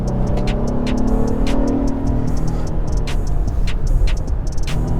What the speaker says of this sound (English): You hear that downshift?